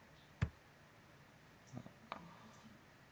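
A computer mouse clicks while working in Microsoft Excel, with a sharp single click followed by a few softer, close-up clicks spaced apart against quiet room tone.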